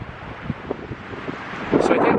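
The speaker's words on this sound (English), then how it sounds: "boy, it sure is windy up here in the mountains in the middle of nowhere" Strong wind high in remote mountains buffets the microphone in uneven low rumbling gusts, building to a louder rush near the end, with no other sound standing out.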